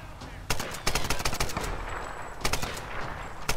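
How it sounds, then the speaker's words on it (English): Rifle gunfire in the video game Tomb Raider (2013): several loud, sharp shots fired in quick, uneven bursts over a steady background of game noise. "this rifle is pretty shit at long ranges"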